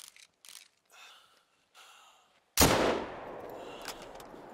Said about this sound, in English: I'm going to shoot and see if any lynx run